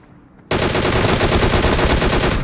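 Rapid automatic gunfire in a battle royale video game firing on an enemy team, starting abruptly after a quiet moment and continuing as a loud, dense burst to the end.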